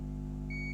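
A multimeter in continuity mode gives a short, clear electronic beep over a steady low electrical hum while testing a Nintendo Switch board.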